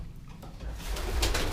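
White homing pigeons coo softly inside a backyard loft, low rolling calls rising slightly in loudness, close by with faint rustling and no talk.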